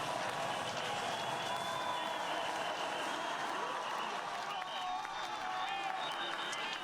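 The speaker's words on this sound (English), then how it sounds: "Crowd's making plenty of noise for her." Spectators at the Sochi Paralympic women's 15km cross-country ski finish cheer and applaud steadily, a distant, sustained wash of crowd noise with clapping throughout.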